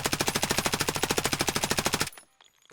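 A submachine gun in Escape from Tarkov fires one rapid, unbroken full-auto burst of about thirty evenly spaced shots, loud and close, then cuts off into near silence.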